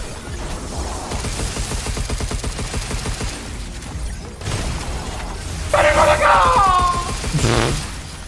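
Gunfire in the Pragmata video game, a busy run of rapid shots and impacts under a dense in-game mix, then a brighter burst near the end with someone talking faintly.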